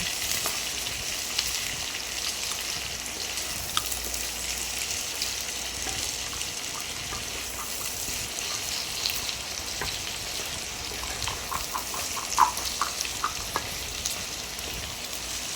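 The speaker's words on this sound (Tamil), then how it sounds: "கடுகுலாம் பொரிஞ்சிருச்சு. இதை வந்து இதில் கொட்டிக்கணும்." Hot oil with popped mustard seeds is poured over mango pickle and sizzles, a steady dense hiss with faint crackles, continuous and close for the whole stretch.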